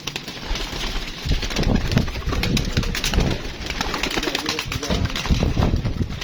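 Flying pigeons coo in a loose, overlapping chorus close by, with scattered scuffling and flutter sounds throughout.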